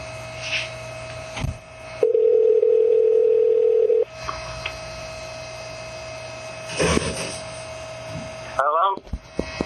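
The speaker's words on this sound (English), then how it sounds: "It's ringing." A telephone line rings once as a steady tone lasting about two seconds, over faint mains hum and line noise, with brief clicks and handling sounds around it.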